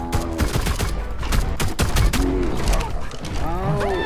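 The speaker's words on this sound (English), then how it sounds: "you're supposed to shoot him down until he starts blocking" Rapid bursts of gunfire from tranquilizer shots at a creature in the video game Ark, dense repeated cracks with game effects and swooping tones over a steady loud bed, close and continuous.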